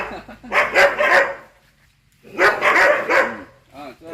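A local village dog in Jaffna, Sri Lanka, barks loudly and close in two separate bursts of rapid barks, with a short quiet gap between them.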